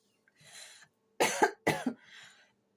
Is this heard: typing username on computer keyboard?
no